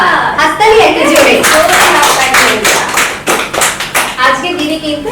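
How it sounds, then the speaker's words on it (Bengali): A game-show audience claps loudly in a dense, rippling burst that rises and falls in waves, mixed with voices and chatter from the crowd. "আবার হাততালি একটা জোরে"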